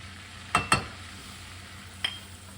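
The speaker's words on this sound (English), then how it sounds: "And you're just gonna stir that until it starts to brown a little bit." Melted butter and flour are stirred in a pan for a soup base, with soft sizzling underneath, two quick scraping clinks of the utensil, and a fainter third tap a moment later, without talking.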